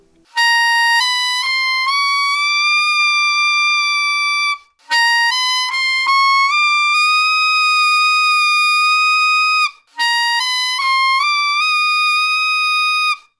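Three long, sustained altissimo alto saxophone notes played with a Vandoren V16 mouthpiece, each bright and steady with a slight bend as it settles, separated by short breaths.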